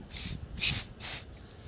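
Three short hissing sprays from an aerosol can during a Vauxhall Mokka rear brake disc and pad replacement, evenly spaced, close by and fairly quiet.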